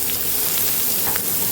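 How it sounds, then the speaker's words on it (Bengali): Chopped onion fries in a little oil in a frying pan, giving a steady, close, loud sizzle with fine crackling and no talking. "একটু পেঁয়াজ কুচিটা ভাজা হবে।"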